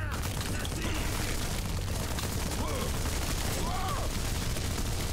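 Rapid rifle gunfire from a video game keeps up a loud, continuous clatter of shots, with dense crackling bursts and no pause for the whole stretch.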